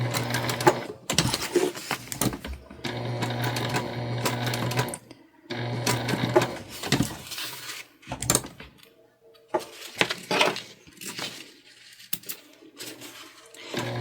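A Juki TL2 sewing machine stitches along the outside edge of a drawstring backpack, loud rapid humming runs in several bursts separated by short pauses, with clicks and handling noises between.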